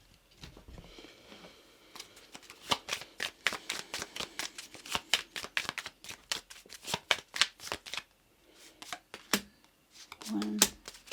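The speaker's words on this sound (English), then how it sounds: "we're going to take 2 cards each from my own oracle deck" Oracle cards riffling and snapping as a deck is shuffled and cards are drawn, a long run of quick crisp flicks at close range, with soft rustles and a brief voice near the end.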